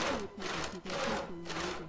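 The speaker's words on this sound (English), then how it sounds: "Oh, I'm going to use a hacksaw." A hacksaw cutting with steady back-and-forth strokes, four or so rasping passes in quick rhythm, close and fairly loud with no talk over it.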